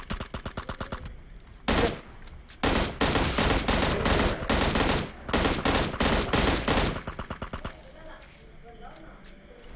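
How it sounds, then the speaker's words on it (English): SLR self-loading rifle fire in PUBG Mobile zombie mode, loud rapid bursts of shots in quick succession with brief gaps, ending in softer scattered pops, while a person talks over the gunfire. "Pwede ba SLR din? Self-loading rifle."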